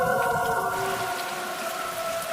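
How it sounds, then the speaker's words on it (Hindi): Heavy nighttime rain used as a horror-story sound effect, a steady hiss of falling drops under sustained droning tones, brief and even in level. "रात में जोरों की बारिश के साथ आसमान में बिजली कड़क रही थी"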